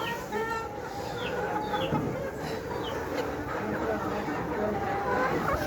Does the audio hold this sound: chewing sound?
no